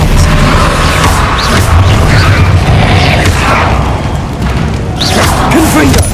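An Expelliarmus spell cast in the video game Hogwarts Legacy, set amid loud, dense booming combat noise with crashing impacts and brief voice-like sounds over several seconds.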